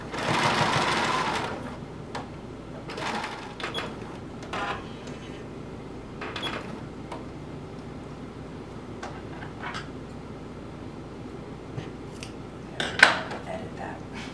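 A sewing machine stitches the curved neckline of a DIY top with leather accents in short bursts, the rapid needle whir starting and stopping between quiet pauses, with scattered clicks of handling.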